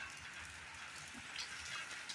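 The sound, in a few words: rain falling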